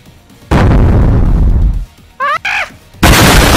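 Loud game explosions and gunfire from a gun mod in Gorilla Tag, a long booming blast followed by short shots and another sudden burst, close and alone.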